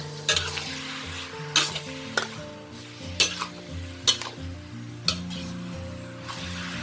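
Constant sizzling and popping of pork skin frying in a pan, with periodic metallic scrapes as it is stirred and music underneath.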